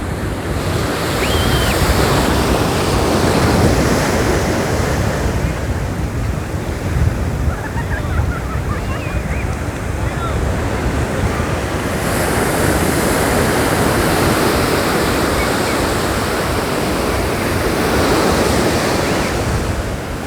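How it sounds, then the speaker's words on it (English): Small ocean waves break at Hermosa Beach on a fairly calm day, a loud continuous surf roar with wind buffeting the microphone and gentle swells in intensity. "it's really just the smaller waves that come in"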